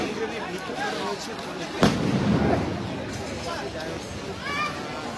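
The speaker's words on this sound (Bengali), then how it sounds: "অন্যদিকে আমরা দেখতে পাচ্ছি সাউন্ড গ্রেনেড নিক্ষেপ করছে আবারও" A single loud boom from a police sound grenade at a street clash between protesters and police rings out over crowd noise, while a reporter talks throughout.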